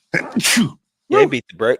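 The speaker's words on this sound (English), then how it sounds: "I need to sneeze." A person sneezes once, a sharp breathy burst, close up and loud, with people talking just before and after it.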